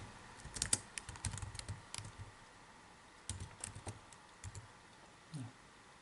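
Keys clatter on a computer keyboard as a formula is entered in MATLAB, with quiet irregular bursts of typing, a pause, then a few more keystrokes against a faint room hum.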